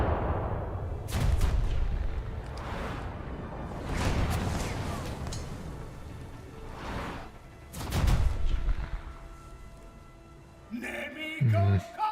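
Warship guns boom in a naval combat video game, several heavy shots spaced a few seconds apart, each a loud blast with a rushing tail, followed by a brief burst of sharper clatter near the end.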